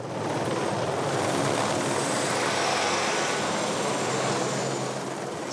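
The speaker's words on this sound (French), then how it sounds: "c'est la première fois qu'on prend du béton avec l'hélicoptère" A helicopter lifting concrete at a construction site roars steadily overhead, a dense continuous rotor and engine noise holding loud and unbroken throughout.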